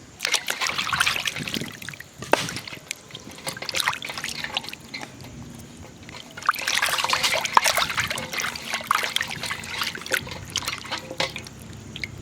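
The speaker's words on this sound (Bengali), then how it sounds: "মাছটাকে আমি সুন্দর করে ধুয়ে নেবো" Pieces of catla fish are rinsed under running water, with a steady trickle and splashing that swells around the middle and carries on through the rest, close by and moderately loud, with no speech.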